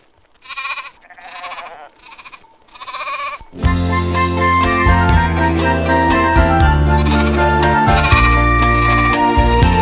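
A little sheep bleats four times in short, wavering calls, then loud instrumental music starts and carries on to the end.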